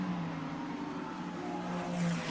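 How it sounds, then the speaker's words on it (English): Ferrari Challenge race cars crossing the line at Suzuka circuit, a steady engine drone with a faint rising pitch as a car passes at a distance. "Cars coming across the line."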